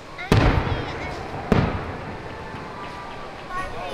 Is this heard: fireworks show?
yes